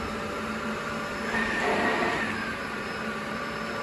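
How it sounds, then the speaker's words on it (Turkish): A Dyson Big Ball Allergy 2 vacuum cleaner runs with a quiet, steady whir and a soft airy hiss that swells slightly midway, with no voices over it. "Süpürgenin sesi oldukça düşük."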